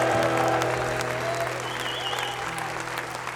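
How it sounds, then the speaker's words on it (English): A folk festival audience claps and cheers steadily and loudly throughout, a dense continuous wash of applause with a few whoops rising above it. "Give them a big cheer. They deserve every single clap you got."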